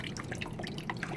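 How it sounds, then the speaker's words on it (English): Water drips from a sheet of soaked printing paper drawn out of a bath for intaglio drypoint printing, a fast patter of small droplets falling steadily, close and soft without speech. "let it drip"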